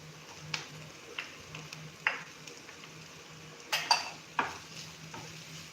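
Chopped onion cooks in a pan for momos paratha with a faint, low sizzle, broken by a few sharp spoon clinks and scrapes against the metal at scattered moments.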